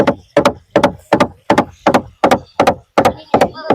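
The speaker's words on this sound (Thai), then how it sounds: "ได้ยินเสียงเคาะเด้" Sharp wooden knocks repeat about ten times in a steady, even rhythm, loud and close, beside a rice field and fish pond, with no talking over them.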